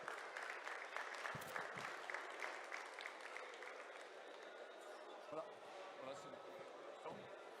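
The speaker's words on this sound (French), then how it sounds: "Et vous pouvez applaudir ces deux éleveurs et ces deux élevages." Audience at an agricultural show applauds two cattle breeders presenting their cows, a broad steady patter of clapping with scattered thumps and crowd noise mixed in.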